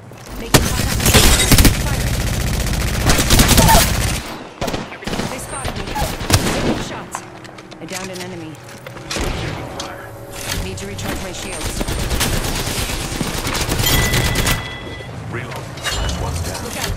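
Rapid bursts of automatic gunfire in the Apex Legends video game, loud and dense at first, then intermittent shots and mechanical clatter with a voice talking over the fight.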